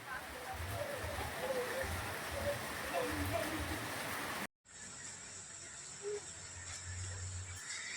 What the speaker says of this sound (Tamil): காலையில நைட்டு பிடிச்ச மழை இன்னுமே பெஞ்சிட்டு இருக்கு